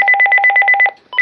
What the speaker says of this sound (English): And so here's the bass ringer first. Off. Low,